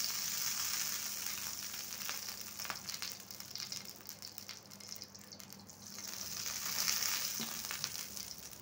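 Oil heats on a tava griddle set over a stove burner, giving a continuous close hiss and sizzle that swells and eases slightly, with faint clinks and no talking.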